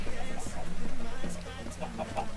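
Chicken clucking in Minecraft, short repeated clucks close by, mixed with a voice speaking over the game's background sound.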